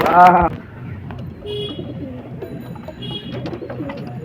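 Large pigeons coo repeatedly in a low, rolling rhythm close by, after a brief louder call at the start, with faint ambient noise underneath.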